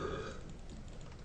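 A loud, deep burp that starts strong and trails off into a rough, drawn-out gurgle, heard alone up close.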